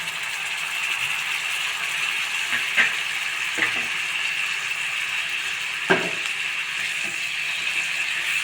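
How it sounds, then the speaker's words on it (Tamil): Tomato puree frying in hot oil for a dhaba-style makhana gravy: a steady, moderately loud sizzle with a few sharp clinks and scrapes from stirring in the pan, and no voices. "இப்போ தக்காளியை வந்து நான் வந்து நல்லா அரைச்சி வச்சுருக்கேன் தக்காளி பியூரி இதை வந்து இதில் சேர்த்துடலாம்"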